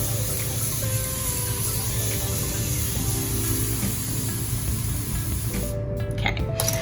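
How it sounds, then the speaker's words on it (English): A handheld spray bottle filled with warm water mists onto hair during a wash-and-go curly hair routine, giving a close, steady hiss that runs nearly unbroken. "I have my handy dandy spray bottle and I have it filled with warm water."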